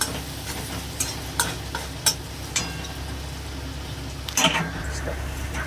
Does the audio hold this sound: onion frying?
yes